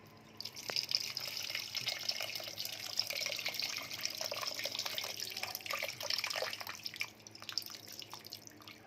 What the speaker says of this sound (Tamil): புளி தண்ணி ஊற்ற போகிறோம்